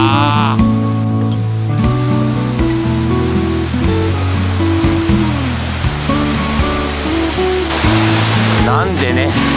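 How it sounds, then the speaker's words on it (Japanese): A steady roar of falling water from an artificial waterfall rushes underneath, while music plays prominently over the top. "工業用水を満たすためにね、人工的に作られた滝なんだって"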